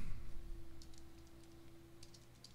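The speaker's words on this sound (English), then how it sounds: "we're going to type in a flight plan here" Computer keyboard typing a flight plan, soft scattered key clicks in small clusters over a steady low room hum.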